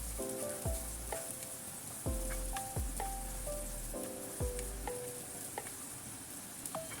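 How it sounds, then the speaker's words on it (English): Green onions stir-fried with radish in a wok give a bright sizzle, punctuated by repeated sharp metallic clanks and ringing utensil strikes against the pan at an uneven rhythm. "Then add in green onions. We stir a little bit."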